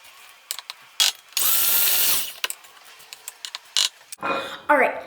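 A stand mixer beats cream cheese and sugar in a bowl with a loud, steady whirring burst of about a second, surrounded by clinks and clatter from the kitchen.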